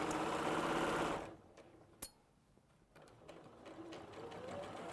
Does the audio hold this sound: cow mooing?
no